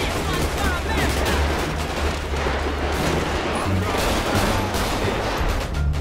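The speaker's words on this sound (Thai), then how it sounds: "โอเคยิงเข้าไปยิงเข้าไปดูว่าจะตายหรือเปล่านะผู้ชม" Gunfire in GTA V during a police shootout rattles on continuously, dense and loud, over a low rumbling background with a voice audible underneath.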